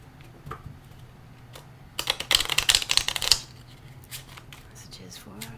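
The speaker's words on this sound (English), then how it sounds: "A couple more shuffles here." Tarot cards being shuffled, a quick crisp riffling burst lasting about a second and a half, close by, between quieter handling sounds.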